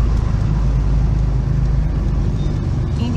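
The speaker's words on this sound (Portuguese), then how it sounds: "Olha quantos carros na estrada." Steady road noise from a car driving along a busy coastal highway near Riviera de São Lourenço in Bertioga, with a loud, continuous low rumble throughout and no talk.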